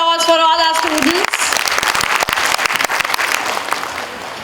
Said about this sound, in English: A huge round of applause for all our students.